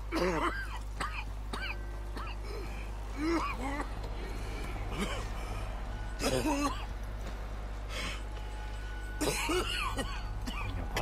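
Arthur Morgan coughing in Red Dead Redemption 2, several harsh, rasping coughs and throat-clearing bursts over a constant low in-game hum, recurring every few seconds.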